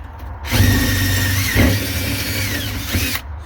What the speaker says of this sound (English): drill out the existing holes to 1/4 inch so the rivet can go in and grab